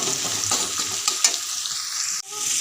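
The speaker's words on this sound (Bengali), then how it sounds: "পেঁয়াজটা দিয়েছি পেঁয়াজটা ভাজা ভাজা হোক" Onions fry in a pan with a bright, continuous sizzle, close and moderately loud, broken by a few light stirring clicks and a sudden cut near the end.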